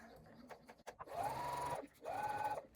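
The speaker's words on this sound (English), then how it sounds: "We're going to be sewing at 3/8 of an inch down the edge of that pocket lining" A sewing machine running two short bursts of stitching along a backpack pocket lining at a 3/8-inch seam, each run a steady whirr of about a second, preceded by a few faint handling clicks, quiet and close.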